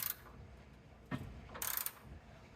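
A ratcheting socket backs out a rear bumper bolt on a 1994 Chevy K1500, giving a couple of brief bursts of quick clicking separated by short pauses, close by, with no talking.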